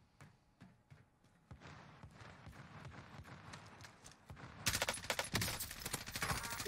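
Rapid gunfire in the video game Warzone, a rattle of repeated shots that builds into a dense, loud burst in the second half.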